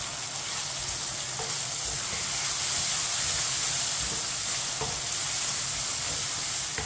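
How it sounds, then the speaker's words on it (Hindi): Chopped tomatoes and green chilies are stirred in a hot pan, giving a steady close sizzle and hiss with soft scraping from the stirring. "टमाटर और सब्ज मिर्च को मिक्स कर लेंगे।"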